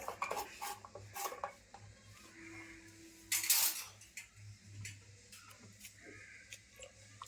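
A knife thinly slicing tender bitter gourd on a board, giving a string of light, close ticking cuts with small clinks of utensils and one louder scrape midway.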